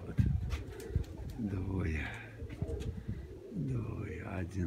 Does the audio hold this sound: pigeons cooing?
yes